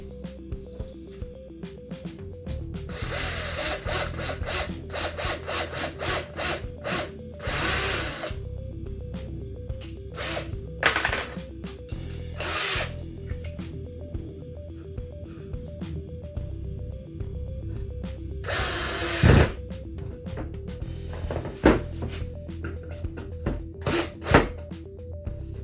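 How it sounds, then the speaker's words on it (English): A power drill bores a pilot hole and drives screws into wood in repeated whirring bursts of varying length, separated by pauses with low motor hum and occasional knocks, close by with no talk. "I'm going to drill a pilot hole for one, and then we're going to sink two of them"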